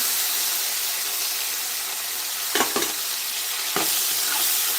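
Chopped tomato sizzles steadily in hot oil for a ridge gourd curry, a continuous loud frying hiss broken by a few short scraping stirs of a spoon in the pan.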